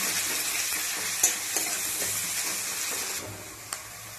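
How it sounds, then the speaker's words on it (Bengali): Two chopped onions frying in hot oil with dried red chilli, a continuous close sizzle broken by a few sharp scrapes of a spoon stirring the pan. "দিয়ে দেবো 2টো পেঁয়াজ কুচি"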